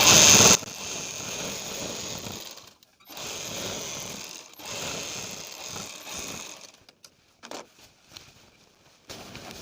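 Foot-pedal sewing machine stitching suit fabric, running in steady mechanical bursts separated by pauses, then giving way to a few short, irregular runs.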